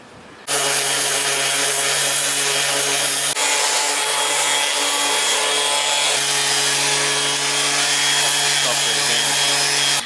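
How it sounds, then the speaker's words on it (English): A power sander whirs loudly and steadily with a constant motor hum, running continuously close by for the whole stretch, sanding a part on a Honda Civic Si FD2. "I'm just gonna sand this out and then paint it black."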